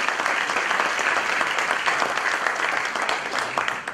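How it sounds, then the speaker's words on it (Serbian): An audience at a business presentation claps steadily for several seconds, a dense, even wash of applause from many hands. "Molim aplauz"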